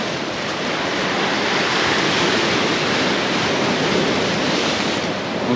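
Waves wash steadily onto a small seaweed-strewn beach in a little bay at Sant Elm, Mallorca, a continuous broadband surf rush with light wind, no voices.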